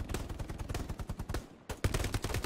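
A machine gun fires from a tower in Hell Let Loose, rapid rhythmic bursts of shots in quick succession, a brief pause, then another sustained burst, loud and close.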